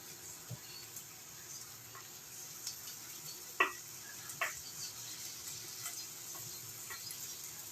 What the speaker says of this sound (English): Give everything a stir to keep it all going.